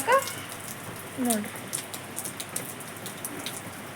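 Steady rain falls throughout as a continuous broadband hiss, with a couple of brief tonal voice-like sounds near the start.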